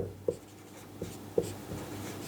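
Pen or chalk strokes on paper or a board in a math lesson, a few short scratchy marks with quiet pauses between them and a low steady hum in the background.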